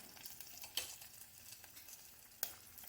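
Chopped ginger, green chilies and curry leaves sautéing in a pan, a quiet, even sizzle with soft stirring scrapes and two brief sharp clinks of a utensil, heard alone without talk.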